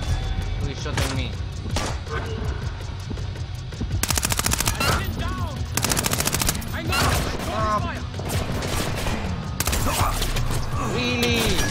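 Gunfire rings out in the stealth shooter Splinter Cell Blacklist, several sharp bursts of rapid automatic shots in clusters, loud and close, with a player's voice talking in between.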